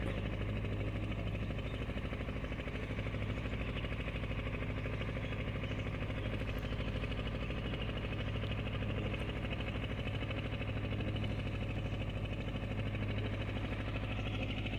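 A motorboat engine drones steadily on a tidal creek in Konkan, a continuous low mechanical hum that holds an even level throughout with no talk over it.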